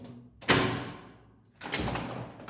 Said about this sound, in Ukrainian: я відкриваю двері